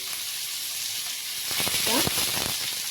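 Stuffed Bombay duck (bombil) fries in oil with a soft, steady sizzle that swells louder midway as more oil is added, joined by a brief bit of talking.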